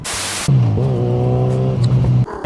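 A motorcycle carrying a passenger pulls away after a burst of wind noise, its engine rising in pitch as it gains speed, loud and close for about two seconds.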